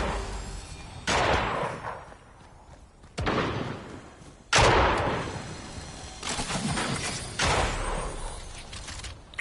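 Gunfire in the video game Fortnite, several sharp, loud bursts and shots spaced a second or two apart, each trailing into a rumbling echo, with no talk over them.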